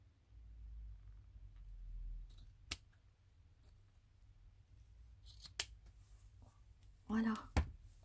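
Scissors snip through a small piece of delicate lace in a few sharp, close clicks, spaced apart over a low background hum.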